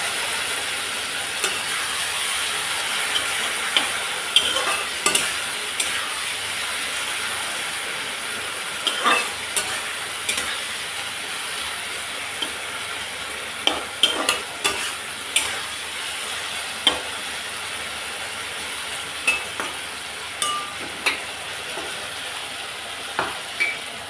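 Mixed vegetables frying in a pan with mustard paste, a long steady sizzle punctuated by regular sharp scrapes and taps of a spatula stirring, near and continuous without voices.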